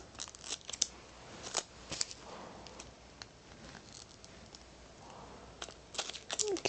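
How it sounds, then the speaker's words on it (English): A pair of scissors trims plastic packaging tape stuck on a coin, giving faint, close snips and crinkles in quick, irregular bursts. "I trim it down with a pair of scissors"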